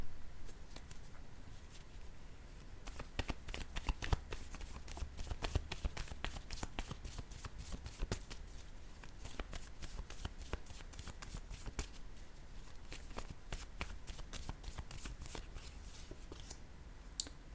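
Picture cards are handled and set down one after another, close and quiet, producing a dense run of soft papery flicks and taps with no talking.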